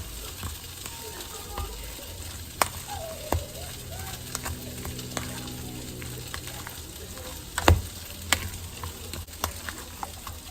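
Meatless taco filling sizzles in a pan while being stirred, a quiet steady frying hiss broken by a few sharp spatula scrapes and knocks, with no voice over it.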